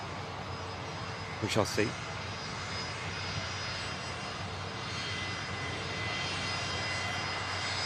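A Virgin Atlantic Airbus A330 jet at Manchester Airport gives a steady, distant engine roar across the whole stretch, with voices talking over it and a brief louder burst of noise near the start.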